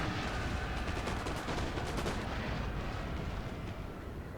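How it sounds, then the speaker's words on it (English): Cannon artillery in Napoleon: Total War fires continuously, a dense rolling barrage of booms and crackling volleys that blends into a loud, unbroken roar. "The cannons also with a lot of experience, shooting super fast."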